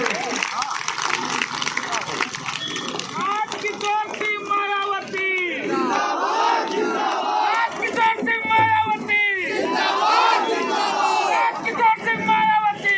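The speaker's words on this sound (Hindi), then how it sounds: "जोरदार तालियों के साथ आप मंत्री जी का स्वागत करें" Crowd at a political gathering welcoming a minister with applause and loud cheering, a rowdy mix of shouting voices and clapping that rises and falls in waves throughout.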